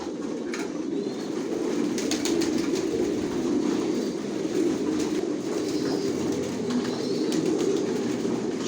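Racing pigeons coo steadily at a loft, a dense, continuous low murmur of many birds close by with no talk over it.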